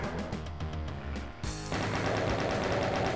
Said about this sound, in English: Alright, you guys get the chain gun.